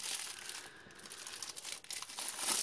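A plastic bag holding an ELA Precise vape mod crinkles and rustles close up as it is handled, a continuous crisp crackle with no talking.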